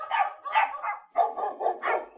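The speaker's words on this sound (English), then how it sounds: "Volleys of furious barking came from the little windows." Dogs shut inside caravans bark furiously as an audiobook sound effect: about five loud, close volleys of barking in quick succession with a short gap midway, and no talking.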